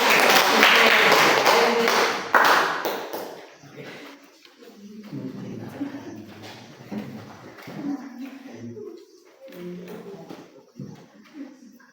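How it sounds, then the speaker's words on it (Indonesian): Applause in an Indonesian classroom, with students clapping for a classmate who has just worked a sample problem at the front. A loud burst of clapping fills the first three seconds, then fades into quieter shuffling, taps and low room noise. "Kita tepuk tangan dulu."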